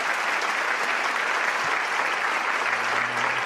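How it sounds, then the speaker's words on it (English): Sustained audience applause at a live rally broadcast from Korea, a steady dense wash of clapping hands throughout with a faint low voice emerging near the end. "Let us give her another warm round of applause."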